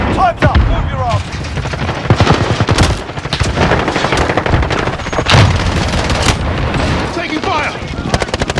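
Loud, dense gunfire in Call of Duty Warzone played on PS5 with an M1 Garand, with rapid bursts, booming shots and explosions crowding together almost without pause, voices mixed in underneath.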